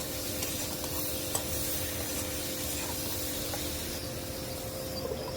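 Pangas fish curry with tomato stirred in a wok, a steady scraping and sizzling of the simmering masala that runs close and continuous, with faint clinks and no talk.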